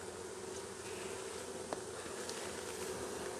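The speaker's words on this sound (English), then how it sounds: "If I move too suddenly and too fast, the bees get a little agitated." A package of honeybees being installed into a hive, giving a dense continuous buzz from many bees close by, steady and even throughout with no talking.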